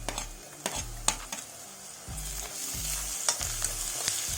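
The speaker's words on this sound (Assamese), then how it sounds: "এইখিনি ভালকৈ আপোনালোকে ফ্ৰাই কৰি ল'ব।" Bay leaves and ginger garlic paste sizzle in a hot pan for a chicken biryani, with steady frying crackle and repeated close scrapes of a stirring spoon against the pan. No one speaks.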